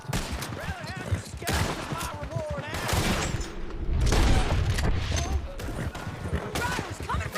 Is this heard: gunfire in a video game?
yes